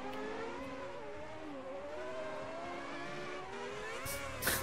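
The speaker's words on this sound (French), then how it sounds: "Attendez, mon moteur, il est poussé à fond ou pas?" A Formula One race car engine in the racing game F1 2010 runs at full throttle, giving a loud, sustained high-pitched whine with slight pitch wobbles and no talking.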